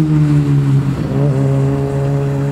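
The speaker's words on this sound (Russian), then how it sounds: "он настоящий, бензиновый. Это полноценный мотоцикл. Пусть у него всего 50 кубов" A petrol 50cc mini motorcycle engine drones loudly and steadily at close range, its pitch wavering and rising slightly partway through before settling into a sustained buzzing idle-to-rev tone.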